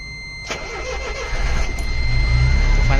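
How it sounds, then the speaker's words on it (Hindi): An SML Samrat BS6 CNG truck engine is cranked and catches, with a click and then a steady rising mid-pitched idle rumble that grows louder and holds close by. "गाड़ी कर देते हैं स्टार्ट।"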